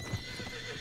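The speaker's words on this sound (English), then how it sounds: "Ranger, stop your damn horse" A horse whinnies briefly, with hooves clip-clopping nearby; short and fairly quiet.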